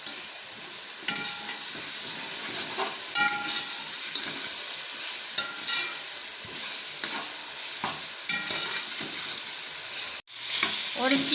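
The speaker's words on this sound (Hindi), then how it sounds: "और अब इन मसालों को हमने अच्छे से भून लेना है।" Spices with red chili powder roast in a pan for aloo matar pulao, a continuous close sizzle with repeated stirring scrapes and a brief dropout near the end.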